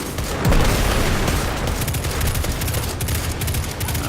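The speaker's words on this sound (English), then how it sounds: "this is a fast rate of fire. Full auto scout pulse rifle" A full-auto scout pulse rifle in Destiny 2 fires a continuous, dense stream of loud shots with booming impacts, filling the whole stretch without pause.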